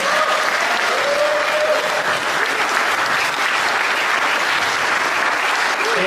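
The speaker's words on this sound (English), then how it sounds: "give us a round of applause for all of our attendees today" A crowd of event attendees bursts into loud, sustained applause, a thick continuous wash of clapping with faint voices and cheers mixed underneath.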